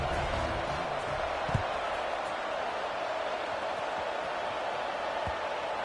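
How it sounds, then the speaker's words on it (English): A football stadium crowd buzzes after a score, a steady broad murmur of many voices with a couple of faint thumps rising briefly above the wash of noise. "this crowd is buzzing after that last score"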